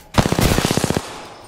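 Rapid automatic gunfire from an Apex Legends match, a tight burst of about a dozen loud, evenly spaced shots lasting under a second, then a short fading tail.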